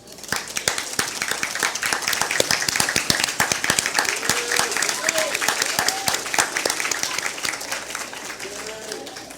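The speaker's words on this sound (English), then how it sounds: "let's give your support a big round of applause" Applause at an adult secondary education graduation, sustained clapping from a large audience, dense and steady for several seconds, with a few voices calling out over it.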